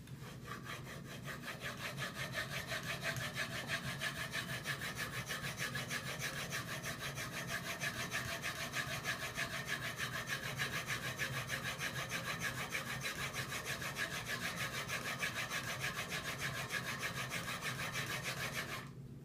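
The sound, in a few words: sharpening a block plane blade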